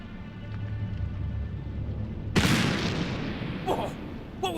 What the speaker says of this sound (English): Sounded like a gunshot.